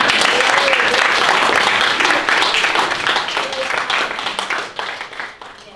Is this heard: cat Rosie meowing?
no